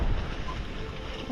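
Sailboat with no engine heeling over in strong wind off Sardinia at about 4.6 knots, a steady dense rush of wind and water noise battering the microphone, close and continuous.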